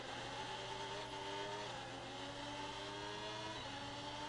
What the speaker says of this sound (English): You hear the car struggling a little with the traction there